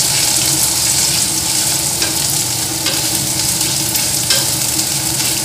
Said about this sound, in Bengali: আর দিয়ে দেবো পেঁয়াজ আর একটা শুকনো লঙ্কা, অল্প তেজপাতা দিয়ে এটাকে নাড়িয়ে নেব